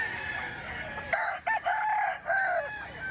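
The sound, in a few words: rooster crowing (chicken for sale)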